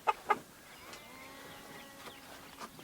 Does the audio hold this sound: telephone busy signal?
no